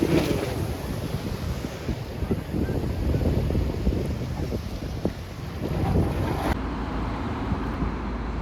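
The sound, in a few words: large ocean waves with wind at Oualidia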